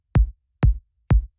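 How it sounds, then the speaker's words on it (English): Deep, punchy kick drum sample run through drum bus processing for Romanian minimal house, three evenly spaced, boomy hits with short decaying tails, loud and alone. "getting this like deep and sort of punchy kick like this"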